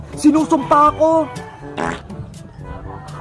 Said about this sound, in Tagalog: Oh, ayan! Umutot ka! Narinig ko!